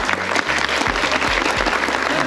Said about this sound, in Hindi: आप सब तालियां बजाकर स्वागत करें।